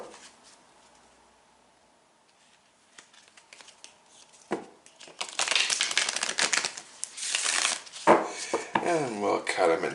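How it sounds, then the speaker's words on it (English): Tarot cards riffled and shuffled close by in several bursts, crisp papery flutters and slaps following a quieter stretch of faint handling. "we're going to give these cards another shuffle."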